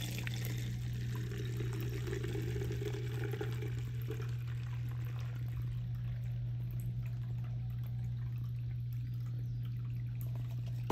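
Water is poured into a spray bottle to fill it, a steady soft trickle lasting several seconds over a constant low electrical hum, with no voices.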